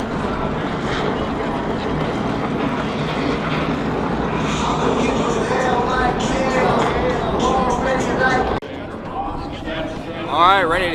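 An aircraft flyover above a NASCAR speedway race, a loud broad engine roar that holds steady then shifts as it passes, with crowd noise and voices mixed underneath.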